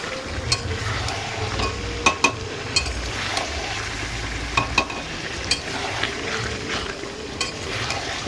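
Potatoes and meat stirred in a hot pan, with a steady sizzle of frying under repeated scraping and clinking strokes of the spoon against the metal, close up and with no voices.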